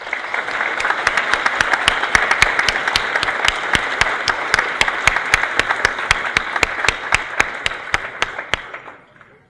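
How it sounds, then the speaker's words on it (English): Audience applauds veterans at a Veterans Day ceremony, with steady, dense clapping from a large crowd carried by sharp individual claps, sustained loud for about nine seconds before tapering off at the end. "give a warm round of applause for our veterans"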